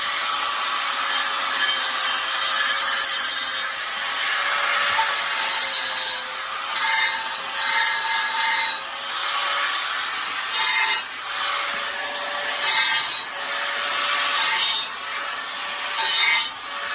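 A Wen 6307 belt sander grinding wood produces a continuous abrasive rasping over a steady motor whine, loud and close, with the scraping swelling and easing as the workpiece is pressed and shifted.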